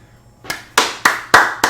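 Five sharp, evenly spaced hand claps from a single person, close and loud, starting after a brief quiet pause.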